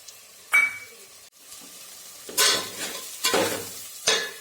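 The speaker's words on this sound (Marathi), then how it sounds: "आता हा मसाला हलवून टोमॅटो विरघळेपर्यंत मी भाजून घेत आहे" Masala and tomato roast in a pan for a crab curry, with a sizzle and several distinct stirring scrapes and clinks from a spoon spaced a second or so apart, close and clear, with no speech.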